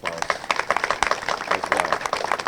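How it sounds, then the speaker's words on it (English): Crowd clapping at a Memorial Day ceremony honoring veterans and first responders, brisk dense applause sounding close and steady with a murmur of voices under it. "Please, let's give them a round of applause"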